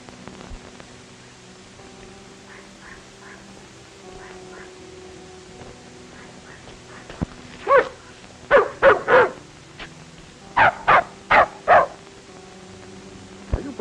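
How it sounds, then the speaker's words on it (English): A dog barks in two quick bursts, three sharp barks then three more, fairly close, over a low steady background hum. "Are you barking at that little dog?"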